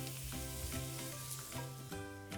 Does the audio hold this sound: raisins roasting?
yes